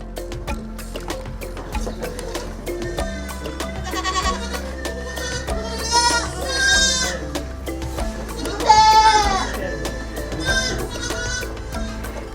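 Goats bleat repeatedly on an urban goat farm in Uganda, several loud wavering calls overlapping close by over a steady low background hum, with no talking.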